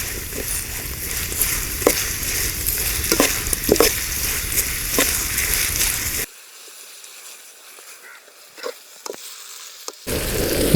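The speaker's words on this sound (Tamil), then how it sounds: "வெங்காயம் நல்லா பொன்னிறமாக வதங்குற வரைக்கும் வதங்கி விடுங்க." Onions frying in a pan until golden brown for a country chicken curry, a steady close sizzle with stirring that drops away for a few seconds and then surges back.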